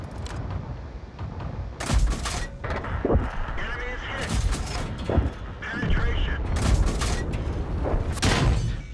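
Tank cannon shots in World of Tanks, a Pz S35 on the Ruinberg map, come as several sharp booming blasts spread across the stretch, with someone talking over the battle noise.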